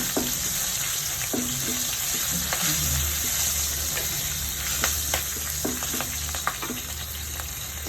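Two green chillies sizzle and fry in hot oil in a pan for a jackfruit-style kootu curry, with steady crackling and occasional sharp scraping clicks of a spoon stirring, close and moderately loud, no voices.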